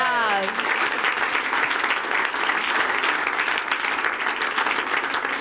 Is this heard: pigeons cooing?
no